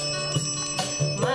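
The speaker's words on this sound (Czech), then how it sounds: "Otvírá se opona, cinká zvoneček." A small bell tinkles brightly at a puppet theatre performance as the curtain opens, with a few quick close rings in a short burst.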